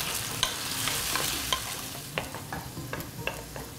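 Chicken pieces fry in a pan until lightly crusted, a close, steady sizzle with frequent sharp stirring clicks and scrapes and no voices.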